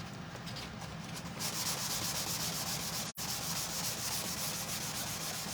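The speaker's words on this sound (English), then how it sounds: "That's the only reason I'm sanding this." Steady hand sanding of wood, a continuous scratchy rubbing at close range ahead of chalk painting, with a brief pause midway and no talk.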